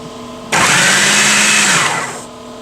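A kitchen blender starts abruptly and runs loud and close for under two seconds, whirring through spaghetti sauce ingredients with a high-pitched motor whine, then winds down.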